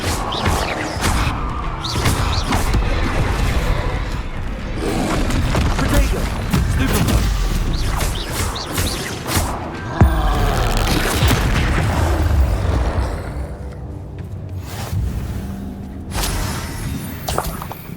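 A Bombarda spell explodes during combat in Hogwarts Legacy, with loud blasts, shattering crashes and whooshing spell effects piling up over a busy battle soundscape, plus voices scattered through it.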